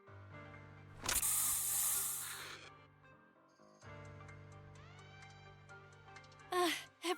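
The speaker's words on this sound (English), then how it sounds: "Here, have a taste of this special Bangboo spray." A burst of Bangboo spray hisses out in Zenless Zone Zero, a loud broadband blast lasting about two seconds over a steady game music bed, followed by scattered electronic chirps and a brief close exclamation near the end.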